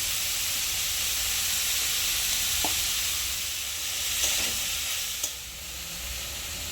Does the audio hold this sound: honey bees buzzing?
no